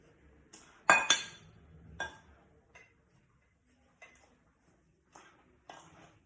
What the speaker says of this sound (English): so just kind of give it a little stir